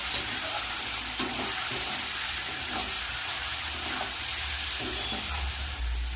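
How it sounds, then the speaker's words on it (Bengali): Fish curry sautéing in a pan with chili powder, turmeric and salt, giving a steady close sizzle and hiss with occasional stirring scrapes throughout, no voices. "লঙ্কার গুঁড়ো আর দিয়ে দেবো পরিমাণ মতো নুন ভালো করে কষিয়ে নেব"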